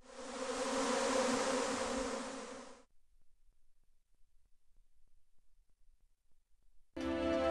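Bees buzzing near a beekeeper, a loud dense swarm drone for about three seconds, then near silence before the buzzing returns abruptly.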